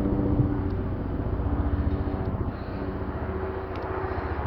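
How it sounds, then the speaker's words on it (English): A helicopter drones overhead in a steady low, pulsing rumble that rises and dips slightly across the span, heard without any talking. "You can even see that helicopter."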